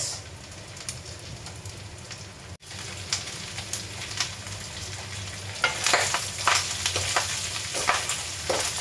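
Garlic and onion sizzle as they sauté in a pan, a close, steady frying hiss with a brief drop partway through, then louder scraping stirs and crackles toward the end.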